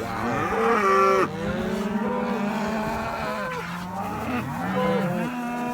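Holstein cows low repeatedly in a pasture, several long overlapping moos close by, loud and drawn out with wavering pitch, no talk.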